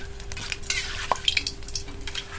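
A metal strainer scrapes and clinks in a pan of gently sizzling oil, lifting fried ripe mango pieces, with short stirring and lifting sounds close by.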